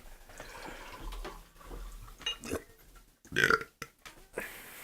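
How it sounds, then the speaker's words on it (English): A person lets out a loud, rough burp during a relaxed indoor wine chat, a single gurgling belch preceded by quieter murmurs and small noises. "way to fill that dead air with a burp"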